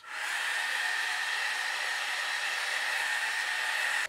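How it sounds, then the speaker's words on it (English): A heat gun blowing hot air onto faux leather made from vellum: a steady, loud, whooshing fan roar that starts at once and holds evenly until it cuts off, alone with no speech. "Let me hit this one with the heat gun."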